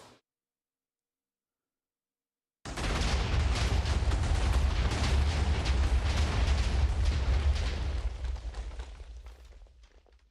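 Minecraft explosions in a game session, beginning after a few seconds of silence with a dense, continuous crackling roar of blasts that holds steady and then fades toward the end.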